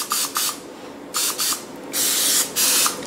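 Cooking oil sprayed from a can onto ground lamb stuffed peppers outdoors, a series of short hissing bursts, two quick pairs followed by two longer sprays, close and clear.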